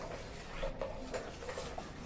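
Someone stirs sugar into milk in a pot for fruit custard, giving soft, steady scraping and faint clinks of a spoon against metal. Quiet and close, with no speech.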